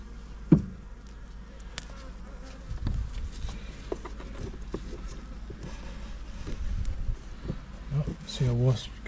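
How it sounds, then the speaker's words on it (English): A wasp buzzes around an open honey hive, a faint fluctuating drone that rises and fades as it moves near, with handling knocks and rustles outdoors. "See a wasp getting involved there."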